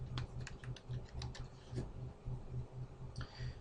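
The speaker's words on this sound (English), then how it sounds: "When it does come up, type your password in." Password typed on a computer keyboard at a server's command prompt: a quick run of about a dozen light key clicks in an uneven rhythm, close and fairly quiet, with no talking.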